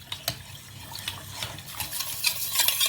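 Jaggery being stirred into warm water for a wheat-flour cake batter, giving close, irregular clinks and scrapes of a spoon against a bowl over gentle liquid swishing, with no talk.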